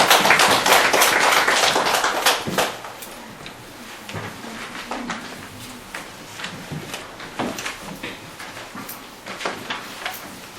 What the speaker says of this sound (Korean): 우리 장준수 교수님을 박수로 환영하겠습니다.